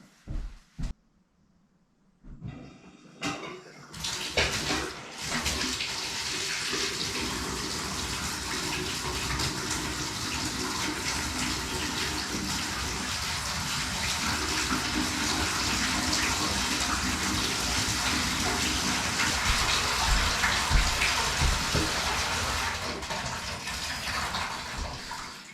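Tap water gushing steadily into a bathtub as it fills, a continuous broadband rush that starts after a few quiet seconds and some handling noises, then runs loud and unbroken throughout with no talking.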